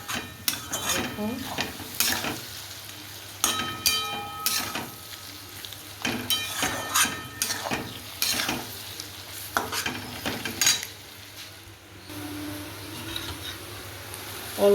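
Chicken curry masala being stirred and fried in a pan with water added, village kitchen cooking: a spoon scrapes and clatters against the pan in repeated bursts over a steady low sizzle, close and fairly quiet, no talking.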